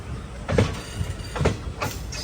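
A Matsyagandha Express passenger train runs toward Mangaluru Junction, its wheels and carriages rumbling steadily with a few louder rhythmic thumps as the coaches pass over track joints.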